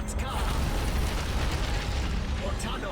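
Spells explode in a fantasy game battle, fireballs and an implosion among them, as one dense, continuous roar of rumbling blasts and bursts close up.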